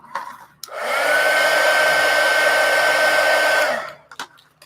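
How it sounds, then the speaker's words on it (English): A heat gun blows hot air to dry material in an abandoned castle, a loud steady whir that starts abruptly, holds for about three seconds and cuts off, with a few soft knocks around it. "I'll hit it with the heat gun"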